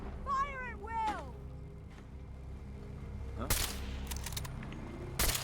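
Defenders fire at will in a foggy game battle, sending several sharp, loud bursts of gunfire in quick succession after a shouted exchange, with other noise underneath.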